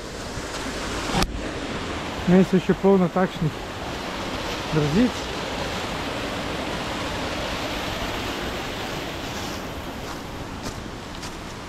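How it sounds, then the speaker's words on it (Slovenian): Bojanca waterfall on Bohor roars as a steady broadband rush, loud and continuous throughout, with a brief spoken phrase over it near the start. "se imenuje slap Bojanca."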